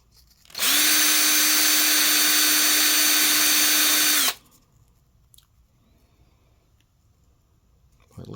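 A high-pitched power tool polishes the black coating off a CIVIVI Cogent knife button in one loud, steady whine lasting a few seconds. It cuts off sharply and leaves quiet handling noise behind.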